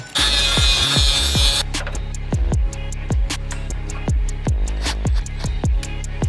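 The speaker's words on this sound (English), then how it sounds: "This is my welder. And we are going to tack in the first part of the tub." A welder tacks the first section of a wheel tub into a Nissan 240SX S13, giving a loud crackling buzz for under two seconds, followed by a steady run of sharp metallic knocks.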